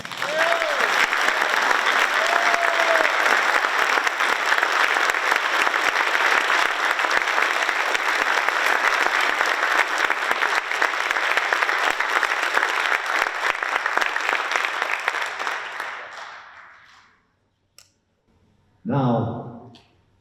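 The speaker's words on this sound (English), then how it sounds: "please join in with an Enfield High round of applause" An audience at an Enfield High tribute night gives a long round of applause in memory of John Ashton, class of 1966. Full, sustained clapping gradually thins and fades out, followed by a brief spoken word in the quiet.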